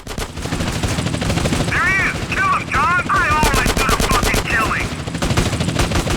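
Submachine gun fire in GTA San Andreas: loud, sustained automatic bursts crackle nearly nonstop amid dense game noise, with wavering tonal cries or sirens layered over the shooting.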